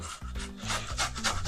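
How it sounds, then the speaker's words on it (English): Fresh ginger is rubbed against a grater in quick, close rasping strokes, a continuous rhythmic scraping that lasts a moment. "Now we need fresh ginger. So we want to grate that."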